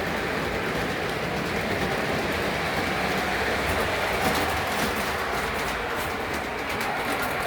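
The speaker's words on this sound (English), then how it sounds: "anytime you can run a train" A model train runs along newly laid layout track, giving a continuous close rumble with faint rhythmic clicking and no voices over it.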